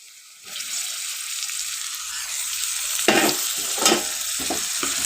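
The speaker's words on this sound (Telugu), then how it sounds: "ఇలా దొండకాయ కూడా బ్రౌన్ కలర్లో వచ్చినంత వరకు బాగా ఇలా కలుపుకుంటూ ఫ్రై చేసుకోవాలండి" Ivy gourd pieces fry in hot oil with a steady sizzle, broken by several louder scraping stirs from about three seconds on, close by and without talk.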